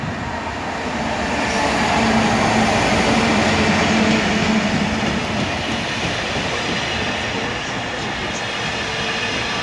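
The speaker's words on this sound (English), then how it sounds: "there's the first freight train of the year" A freight train hauled by locomotive 66751 rolls steadily past a station on the West Coast Main Line, a loud continuous rumble and wheel clatter that holds for the whole stretch.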